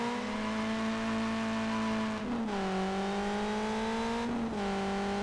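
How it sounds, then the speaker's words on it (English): Race car engines in the drifting video game High Octane Drift hold a loud, continuous buzzing drone, with pitch dips and rises as revs shift twice. "Listen to those engines roar"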